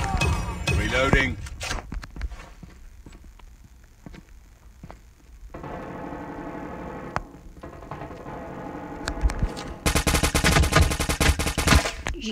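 Gunfire in the mobile game Call of Duty Mobile, sharp shots and short automatic bursts with quieter gaps, ending in a loud dense stretch of fire, under a voice talking.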